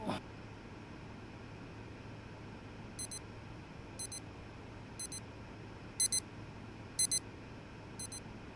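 A warning alarm chirps on its own in a quiet room, sounding as evenly spaced pairs of high electronic beeps about once a second over a low background hum.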